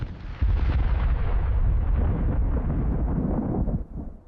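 A single massive boom from a US M1 240mm howitzer firing, erupting suddenly and rolling on as a long, deep rumble that slowly fades out, loud and alone.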